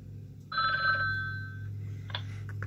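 A telephone rings in the Talking Ben video game, a single bright electronic ring lasting about a second over a steady low hum, followed by faint shorter tones.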